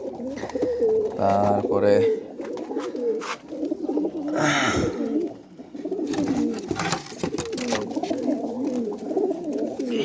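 Captive pigeons in a loft, a red Pilong hen among birds caught in 2024, coo low and intermittently beneath steady nearby talk, with rustling and a burst of wing flutter.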